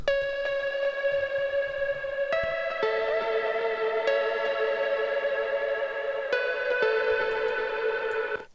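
Sustained, bright synth chords from Logic's stock library shift a few times, washed in RC20 echoing delay and reverb that give a wide, ambient shimmer with no voices.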